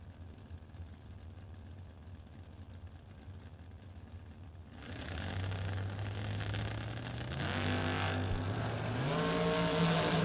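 Drag racing at a creek-side strip as an American Chassis dragster and a Vega rev their engines, the low throttled drone building louder and rising in pitch across several steps toward launch, steady and close.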